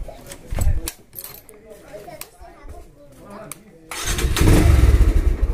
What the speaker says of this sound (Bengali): বাইকটা একটু টেস্ট করো তো